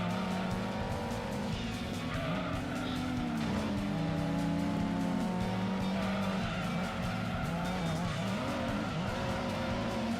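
A Toyota Supra RZ in Gran Turismo 2, its engine droning steadily with shifting revs while the tires squeal and skid through corners, continuous and fairly loud with no talk.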